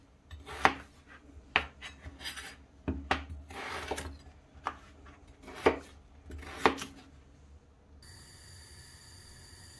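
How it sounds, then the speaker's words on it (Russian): Several sharp knife chops through potatoes against a cutting board, irregularly spaced, close and crisp, with quiet scraping between strikes. "Нарезаю его небольшими кусочками"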